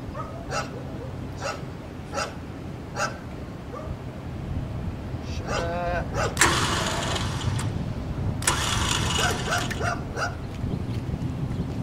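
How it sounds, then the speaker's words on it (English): Dogs bark in bursts some distance off, a few sharp yelps and then louder volleys, over a constant outdoor background with a faint engine-like rumble. "They always got the stupid neighbor's dogs. I think they follow me."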